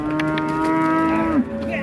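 A bull calf mooing at an Indonesian cattle market, one long, loud, close moo lasting nearly two seconds with a drop in pitch near the end, over faint background market noise.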